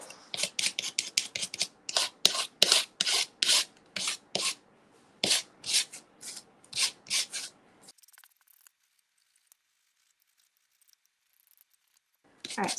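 A wooden farmhouse kitchen sign is roughed up by hand with quick, close scraping rubs in short bursts, then the strokes stop and near-silence follows.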